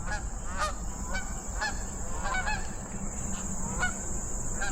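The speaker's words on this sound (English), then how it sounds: "here come the geese flying over. They're gonna fly directly over us." Flock of Canada geese flying overhead, honking repeatedly in an irregular chorus of nasal calls over a steady background hiss, with no talk.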